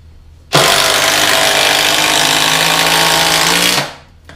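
A Makita sub-compact brushless drill runs on its high-torque setting, a loud steady motor whine starting abruptly and holding for about three seconds before spinning down, with no talk over it.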